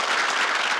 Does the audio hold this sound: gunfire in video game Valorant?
no